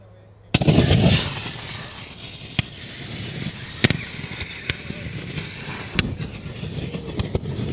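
Lithium-ion battery burning inside a fire bag during a test: a sudden loud whoosh, then a steady roaring hiss broken by scattered sharp pops and crackles.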